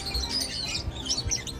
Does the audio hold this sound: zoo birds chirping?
yes